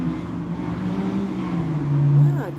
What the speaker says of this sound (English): there's another loud car.